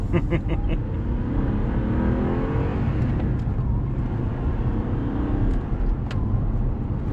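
A 2012 Audi R8 engine rumbles and revs steadily nearby, with a deep growl holding throughout.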